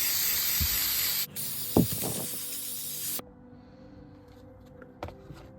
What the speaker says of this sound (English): I'm gonna spray it with something called Plastidip.